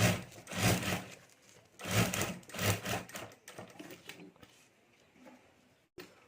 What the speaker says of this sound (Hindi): तो यहाँ ऊपर मैं एक सिलाई कर देता हूँ।